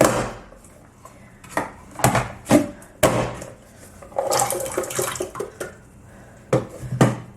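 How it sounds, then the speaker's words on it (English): Cut potatoes plop and splash one after another into a pot of water, a series of distinct wet drops and clunks with quiet pauses between them, close up and with no talking. "I will just put them directly in the pot of water as I'm working."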